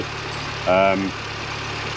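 A Mini One or Cooper R50 engine with a newly replaced alternator idles in a low, steady hum beneath someone talking nearby.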